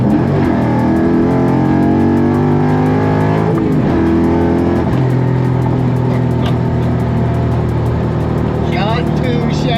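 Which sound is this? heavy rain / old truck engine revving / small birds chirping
old truck engine revving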